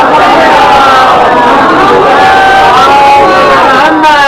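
A large majlis audience at an 8th Muharram gathering recites salawat together in one loud, sustained chorus of many overlapping voices, close and filling the hall without a break.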